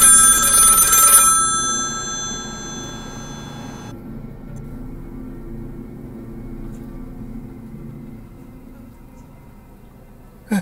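A telephone rings with a loud electronic trill for about a second, then its tones fade away over a low background rumble.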